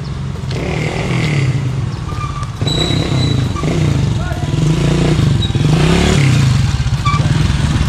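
Motorcycle engines rumble steadily close by as bikes ride slowly past, with a rattling clatter and people talking over the noise.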